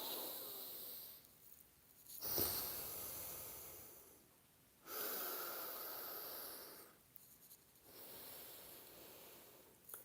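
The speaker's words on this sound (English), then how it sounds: "so you go inhale one side, exhale the other side, inhale on that side, exhale the other side through the nostril" Slow alternate nostril breathing, close and quiet: airy nasal inhales and exhales alternate in long hissing strokes of about two seconds each, with one sharper sniff, and no speech.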